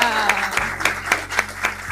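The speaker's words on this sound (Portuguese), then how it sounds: "Palmas!" Enthusiastic audience applause, dense clapping from a crowd with a voice speaking over it.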